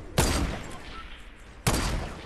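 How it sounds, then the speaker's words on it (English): Two loud, close rifle shots from Fortnite crack about a second and a half apart, each with a booming report that trails off into a fading echo. "Oh, are you shooting at original?"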